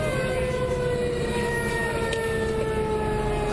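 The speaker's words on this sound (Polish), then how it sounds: "Głośniejsze syreny." Fire engine sirens wail steadily and loudly, a sustained tone with a low engine rumble beneath, no voices.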